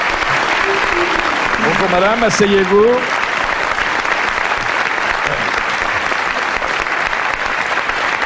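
Studio audience applauds a contest winner on a French TV talk show, steady dense clapping filling the whole stretch while a man greets and seats a woman over it.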